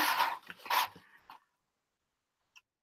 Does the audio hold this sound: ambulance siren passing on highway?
no